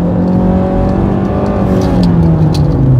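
A 2021 Hyundai Elantra SE is driven under hard acceleration, its engine droning loudly and steadily and the pitch climbing slightly as it pulls, heard close with no talking.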